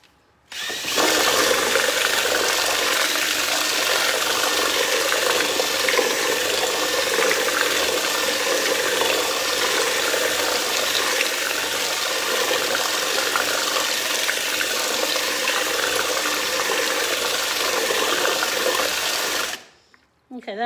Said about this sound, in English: So I'm gonna add just a touch more water to it.